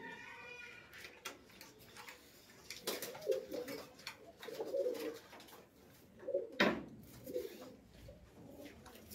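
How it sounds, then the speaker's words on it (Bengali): A male pigeon gives several deep, rolling coos in short bursts close by, with faint handling noise and brief quiet gaps between calls. "এটা নর পায়রা"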